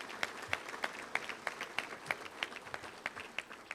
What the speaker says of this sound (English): Let's give all of them a round of applause if you could.